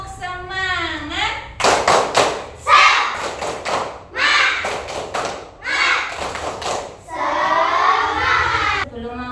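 A classroom group performs a chanted clapping routine during an Islamic religious education lesson, loud bursts of crisp, rhythmic claps alternating with spoken chant lines in unison, repeating in patterned sequences.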